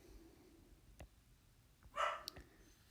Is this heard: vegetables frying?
no